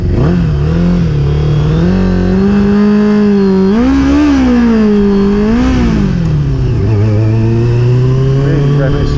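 A Kawasaki ZX6-R motorcycle with freshly jetted carburettors and a slipping, gripless throttle revs loudly and close, its engine pitch swinging up and down unevenly for nine seconds.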